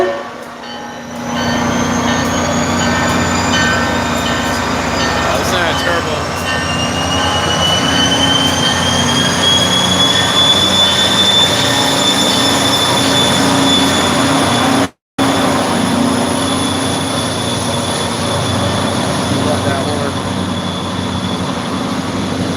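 Freight train rolling through a station, loud and continuous, with squealing wheels and tonal whine rising over a steady rumble, close by throughout.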